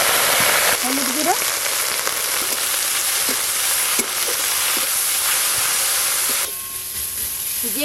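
Kulekhara greens dropped into hot oil with five-spice and dried chilli, a loud, steady hiss and sizzle with occasional stirring knocks, changing to a softer sizzle near the end.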